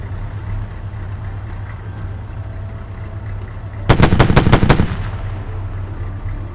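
A vehicle-mounted gun in the video game ARMA 3 fires one short, loud burst of about seven rapid shots over a steady engine idle, then the engine drone carries on alone.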